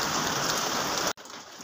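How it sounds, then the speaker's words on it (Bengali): Steady, dense rain pours down loudly and evenly close by, then cuts off abruptly near the end, leaving a quieter wash of falling drops. "দেখো কি বৃষ্টি হচ্ছে"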